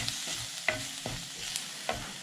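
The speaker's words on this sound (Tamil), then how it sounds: "இதை நல்லா கொஞ்சம் ஃப்ரை பண்ணுறோம்." Turmeric and garam masala fry and get stirred in a pan for a broccoli stir-fry, with a soft, steady sizzle broken by a few scraping stirs of a spoon, close and fairly quiet.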